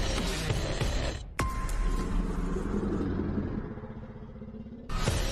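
A monster truck called Thunder Roars does donuts in a Denver arena at a Monster Jam show, its engine roaring in a loud continuous rumble that dips briefly, then surges again.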